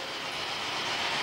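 A passenger train runs on rails through a ghat section of hills, slowing as it goes, with a dense, steady rumble and rattle heard close and continuous.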